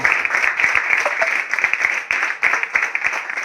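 Applause from a crowd at a trophy unveiling during a cricket league player auction, dense rapid clapping sustained throughout, loud and close, with a faint voice underneath.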